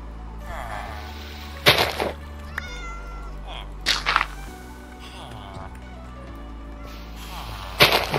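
Cats meowing inside a Minecraft survival game, a few short in-game mews scattered among sharp bursts and game sounds, with talk running over much of it.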